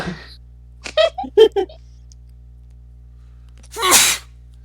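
A player at a tabletop role-playing session lets out one sharp, close sneeze after a brief moment of nearby talk and a quiet pause.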